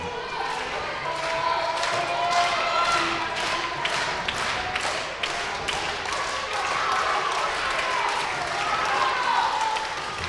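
A wrestling crowd claps for a wrestler named Gabe, a steady patter of many hands with sharp rhythmic claps rising through it. A commentator talks over the applause.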